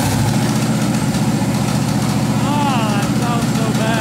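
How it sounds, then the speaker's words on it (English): A street car's engine runs rough with loud popping from its lower end after a hard pull at high speed, a dense low rumble with rapid irregular pops, heard up close under talk. "it's making a noise, making a hell of a popping noise"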